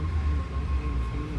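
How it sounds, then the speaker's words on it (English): A BART train pulling into San Bruno station makes a steady low rumble with a faint sustained tonal whine, continuous and fairly close, with no voices. "Yellow Line bound train pulling in at the same time as us."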